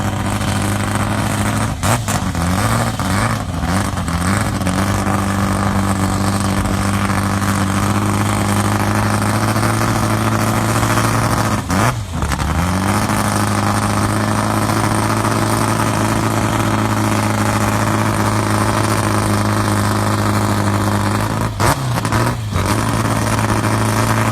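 Fast Fours drag racing car on a first-round bye run, with a loud, sustained engine roar throughout and a few brief sharp breaks as the car shifts gears while it accelerates down the strip.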